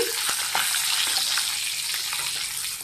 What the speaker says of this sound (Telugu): కొంచెం కారం కొంచెం పెప్పర్ పౌడర్ వేసుకొని ఫ్రై చేసుకోవాలి